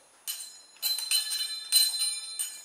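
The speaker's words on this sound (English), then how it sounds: "when my little beads hit it, it rings like a bell" Small beads tied to the front axle of a rubber-band-powered car strike a metal plate bell, giving a series of bright, light clinks and rings in irregular bursts, close and fairly quiet.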